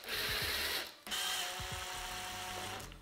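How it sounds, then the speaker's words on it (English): An impact driver drives screws for a small radiator bracket into a dot-and-dabbed plasterboard wall, giving two close, loud whirring bursts with a brief pause between them and no talk. "Give me my impact driver."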